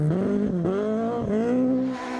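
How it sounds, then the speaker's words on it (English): Small rally car's engine racing along a gravel stage at Rally Gisborne, loud and close, revs rising and dropping sharply across several gear changes before easing off. "It may be the smallest car in the field, but Justin Glavish showing his heels"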